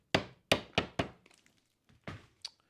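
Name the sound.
stapling lath to a plaster wall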